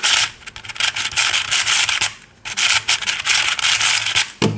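A Fangshi Shuang Ren speed cube, unlubricated, turned in quick bursts, giving a dry plastic scraping and rubbing. The faces click and grind in rapid runs with brief pauses, close up and fairly loud, with no voices.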